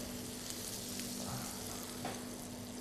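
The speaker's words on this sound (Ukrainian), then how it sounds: "За цей час в сковороду кидаємо наше масло. Коли воно розтопилося" Butter melting and sizzling in a frying pan, a soft steady hiss with a faint low hum underneath and a light scrape or two, quiet and close.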